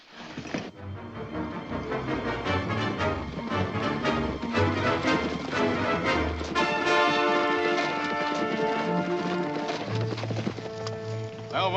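Horse hooves clip-clop on a trail in a 1950s Western, steady and fairly close, largely buried under a loud, swelling orchestral score that plays throughout.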